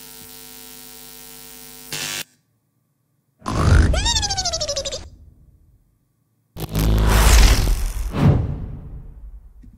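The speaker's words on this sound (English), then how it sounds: "A lot of electricity types of sounds to go with that style." Electricity-style sound effects from a video edit: a sustained electric hum cuts out abruptly, then two loud crackling, zapping bursts with sweeping whooshes follow, each separated by silence.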